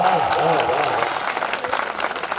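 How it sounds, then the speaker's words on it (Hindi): A poetry gathering (kavi sammelan) in Damua: a voice speaks briefly, then audience applause swells into a dense, steady clatter of many hands. "हमें भी तालियों की गड़गड़ाहट अच्छी लगती है"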